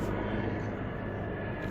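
A helicopter passes overhead as a steady, broad mechanical drone, moderately loud and unbroken for a moment, with no voices over it.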